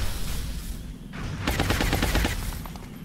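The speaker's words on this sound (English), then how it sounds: "I'm taking heavy fire" Heavy gunfire in the XCOM Enemy Within game, a dense volley of rapid shots crackling in bursts, loud and continuous, with a steadier clatter of fire building through the second half.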